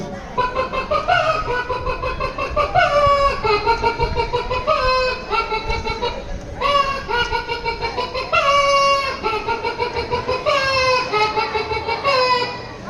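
At a school talent competition, a voice imitates chickens clucking and squawking in rapid, repeated bursts, loud and close, with wavering high-pitched calls throughout.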